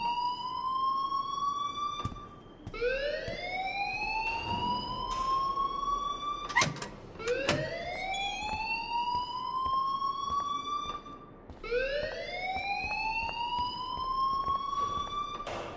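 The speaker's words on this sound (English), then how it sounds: "please turn off that alarm since that's your job" A fire alarm in the Life is Strange video game wails in repeated rising sweeps, each glide climbing and then holding. The cycles repeat steadily at moderate loudness with no talk over them.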